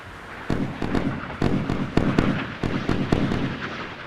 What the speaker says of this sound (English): gun is firing towards us